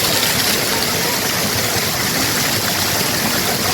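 Constant broadband rush of falling water at Kodiveri waterfall near Gobichettipalayam, recorded close beside it, loud, steady and unbroken with no voices.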